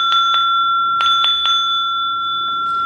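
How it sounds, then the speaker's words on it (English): A heart chakra bell is struck several times in quick pairs, each ring bright and clear with a long sustained tone fading under the strikes, close and loud with no talking. "Had to ring my heart chakra bell"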